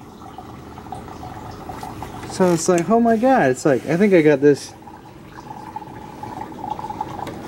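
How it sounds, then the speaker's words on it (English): Gasoline pours steadily from a fuel tank hose into a container in an engine bay, a continuous liquid trickle heard before and after a stretch of talking. "this gas just started it was just pouring out."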